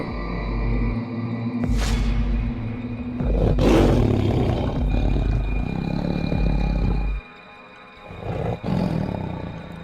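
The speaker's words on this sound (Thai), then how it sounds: "ก็ปรากฏเสือโคร่งตัวใหญ่เลืองแสง คำรามดังกึกก้อง" Deep, rumbling roars of a large tiger rise and swell repeatedly, loud and close, with a low drone underneath and a brief drop in sound near the end, in a Thai 3D horror story.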